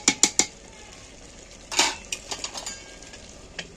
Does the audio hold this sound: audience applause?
no